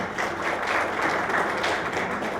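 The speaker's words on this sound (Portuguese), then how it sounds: "Uma salva de palmas para o Nelson." Audience applause at a panel discussion on connected education, a steady wash of clapping from a crowd filling the room for a couple of seconds.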